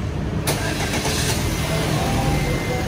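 A Wuling Almaz engine cranks and fires up about half a second in, then settles into a loud, steady idle close by, with no talking over it.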